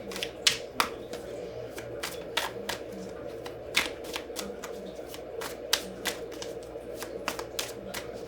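Tarot cards riffle and snap in a steady run of crisp, close clicks and flutters, repeating about every half second over a low ambient hum.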